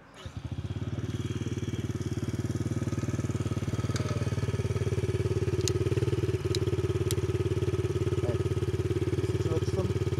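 A motorcycle engine starts and runs steadily in first gear, a loud, close, rhythmic mid-pitched thrum with slight throttle changes and faint voices underneath.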